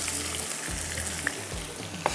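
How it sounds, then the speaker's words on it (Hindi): Chopped onions go into hot oil in a pan while cooking achari mutton masala, giving a steady close sizzle and frying crackle that runs throughout, with a couple of small clinks of a spoon and no talk. "तो अब इसमें जाएगी ये प्याज।"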